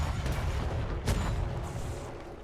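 Ship weapons fire in a roleplay video game naval battle against an enemy with upgraded sails: dense, rumbling blasts with one sharp boom standing out mid-way over a continuous low roar.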